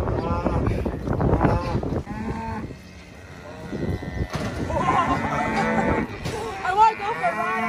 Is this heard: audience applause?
no